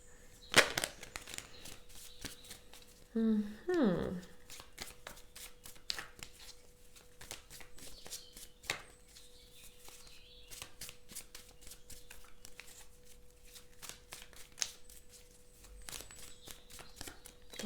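A deck of tarot cards is shuffled up close with quick soft riffles and flicks, a brief cluster of card sounds near the start, then light handling rustles in a quiet room.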